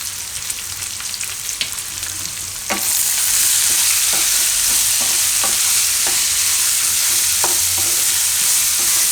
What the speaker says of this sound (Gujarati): એટલે હવે એમાં આપણે નાખી દઈશું આ ફણગાવેલા મગ.